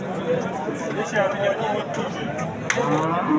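A mother cow at a livestock market in Sirdaryo district moos amid constant crowd chatter and trading bustle, the call rising out of a dense, noisy background.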